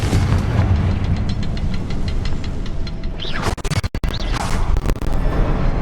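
A Confringo fire spell in the game Hogwarts Legacy, heavy rumbling blasts and crashing debris over a dense low roar, with sharp cracks and whooshing bursts near the end.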